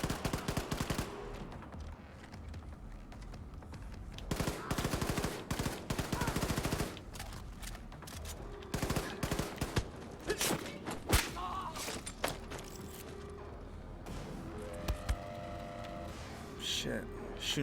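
Enemy gunfire in the shooter game Wolfenstein 2, irregular bursts and single cracks mixed with thuds and debris, loud at times, with a player's voice talking over parts of it.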